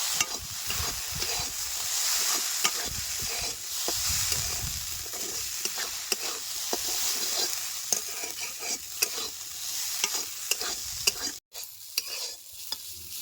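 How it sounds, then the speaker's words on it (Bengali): Potatoes cooking with coriander powder, cumin powder and red chilli powder sizzle in a pan for bread chop filling, with repeated stirring scrapes over a steady hiss that briefly cuts out near the end. "এই সমস্ত কিছু আবার একটু ভাজা ভাজা করে নেব"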